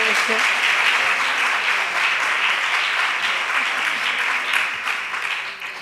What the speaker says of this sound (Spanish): yo creo que se merece un doble aplauso